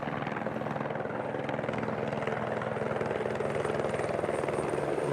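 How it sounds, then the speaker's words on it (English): A customs helicopter flies near the US–Mexico border in Arizona, its steady rotor chop and engine drone holding at an even, moderately loud level throughout with no talk. "Customs helicopter."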